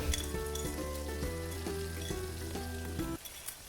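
Pork sizzling in a pan with sautéed garlic returned to it, a steady close hiss of frying fat under faint background music, which cuts out near the end.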